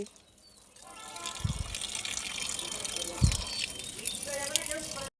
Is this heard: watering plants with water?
yes